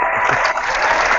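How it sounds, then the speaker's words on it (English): A short burst of crowd applause used as a sound effect, steady dense clapping at full volume throughout, with no voices over it. "I wish we had a round of applause"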